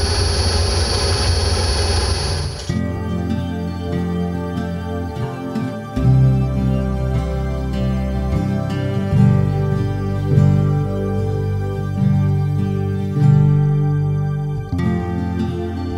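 A wood lathe spins while a square bowl is turned on it, a loud, steady motor hum with a rising pitch as speed increases, then rough intermittent cutting noise over the drone.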